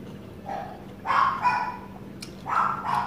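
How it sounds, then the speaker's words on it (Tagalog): Dogs bark in short bursts, a couple of sharp barks, a pause, then another bark, fairly close with a faint steady hum behind. "lagi ako may background na tahol ng aso."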